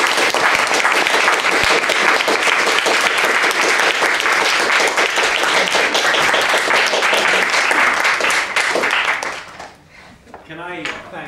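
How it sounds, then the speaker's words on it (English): An audience at a university mooting final breaks into loud, sustained applause that fills the room and then quickly dies away. "you will deserve a round of applause"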